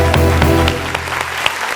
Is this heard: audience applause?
yes